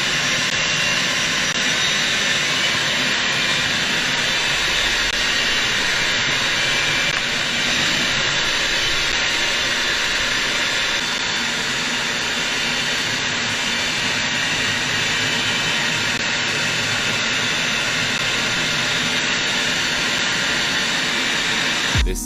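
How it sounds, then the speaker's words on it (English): A fighter jet flies low between city buildings at an air show in Australia, its engine a loud, sustained roaring hiss that holds steady throughout with no talking. "This fighter jet pilot was flying between buildings as part of an air show in Australia."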